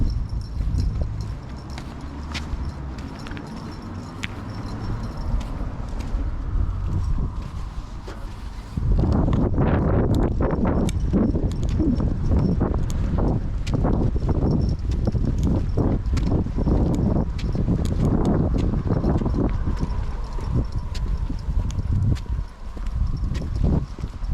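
Horses walking in Manorhamilton, County Leitrim, their hooves clip-clopping in a quick uneven patter that starts loud partway through and continues close by, with some wind noise.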